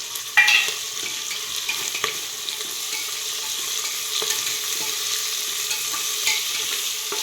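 Onion frying and being stirred in a pan for a spiced vegetable pulao, a steady bright sizzle with scattered spoon scrapes and clicks, close and continuous with no talking.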